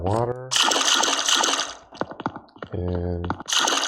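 Footsteps splashing through water on a surface in the game Game Creator 2, a run of wet, splattering steps that come close and clear, with a voice speaking between and over them.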